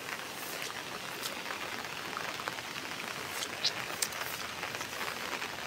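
Torrential rain pouring down on a village, a dense, even hiss of heavy drops striking surfaces, steady and close throughout with no voices.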